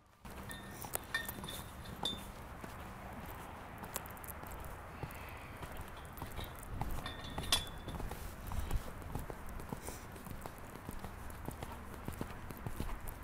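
Horse hooves thud in a rolling counter-canter rhythm on soft ground during a riding lesson, fairly distant and faint, with occasional light metallic clinks.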